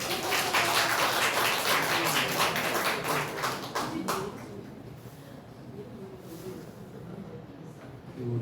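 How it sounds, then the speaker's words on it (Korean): Church congregation at Sunday worship applauding a visiting twin brother asked to stand, a burst of brisk clapping that fades after about four seconds into quiet room noise with soft voices. "박수 한번 주십시오."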